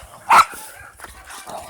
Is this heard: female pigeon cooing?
no